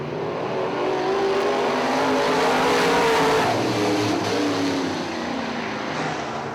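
Modified stock race cars at Cherry Speedway in Michigan roar together as the field comes out of turn four, a dense, loud, sustained wall of engine noise that swells and fades slightly as the pack passes.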